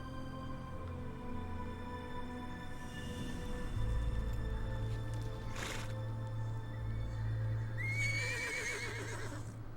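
A horse in a video game, shown against a background of steady hums, neighs in a shrill, wavering whinny near the end, with an earlier shorter burst and faint hoof clip-clops.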